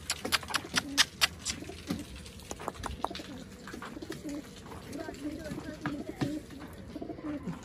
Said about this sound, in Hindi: अब काफ़ी टाइम हो गया जो हमारे पिजन हैं इनको अंदर करते हैं हम।